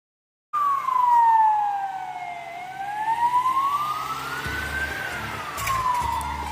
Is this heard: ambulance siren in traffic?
yes